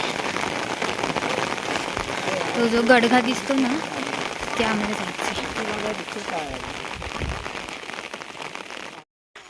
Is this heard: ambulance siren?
no